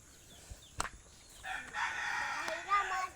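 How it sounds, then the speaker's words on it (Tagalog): A rooster crows loudly nearby, its call rising and holding for over a second, after a few sharp clucks from chickens on a rural farm, with brief speech around it. "Baka makalabas yung mga manok natin."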